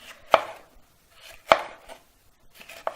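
Kitchen knife chopping bell peppers on a cutting board for a salad, three sharp, separate cuts spaced about a second apart, close and distinct in a quiet room.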